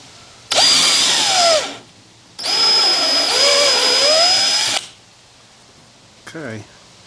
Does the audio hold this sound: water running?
no